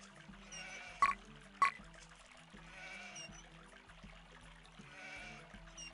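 Goats bleat at a goat ranch in the strategy game The Settlers 4, two short sharp calls close together over quiet game ambience and soft water-like sounds.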